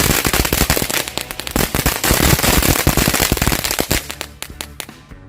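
Firecrackers go off in a loud, rapid, continuous string of bangs, then thin out into scattered pops at the end.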